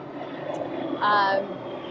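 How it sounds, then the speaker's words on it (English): A propeller airplane passes overhead in Long Beach: a steady, moderately distant drone that swells briefly, with faint voice-like sounds alongside. "Sorry, there's a plane."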